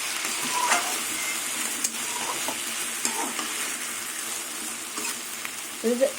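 Young Malabar spinach cooking with a fish head sizzles steadily in a pan, with occasional scrapes and clinks of stirring over the continuous close frying hiss.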